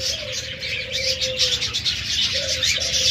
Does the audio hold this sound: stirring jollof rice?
no